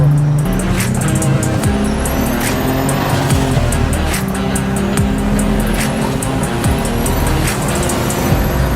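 A BMW E30 with a turbocharged engine of over 550 hp, revving hard and loud up close, the engine tone climbing repeatedly through the gears over a constant roaring drone, with turbo whistle and flutter between pulls.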